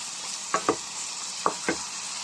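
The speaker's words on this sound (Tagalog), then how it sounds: "Igisa lang natin sa ating bawang. Hanggang mag-orange siya." Half a kilo of shrimp sautéing with garlic in a pan gives a steady, faint sizzle, broken by a few soft clacks of a utensil scraping the pan.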